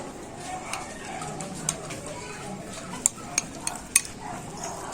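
Squash being stirred in a cooking pan, a soft steady scraping and faint sizzle with a few sharp utensil clinks against the pan, under a low room background.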